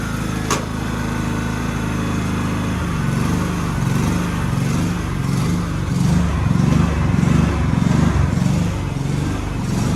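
A restored Walker MTGHS riding lawn mower idles and runs steadily nearby, a continuous rumbling small engine with a throbbing low drone and slight surges, loud and alone.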